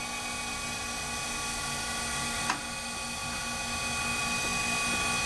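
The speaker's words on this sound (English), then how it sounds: "this can be used as a standard hand feed grinder" A Harig 612 automatic surface grinder runs steadily with a constant motor whine and mechanical hum, one brief click partway through and no talk.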